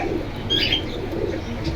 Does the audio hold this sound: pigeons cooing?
yes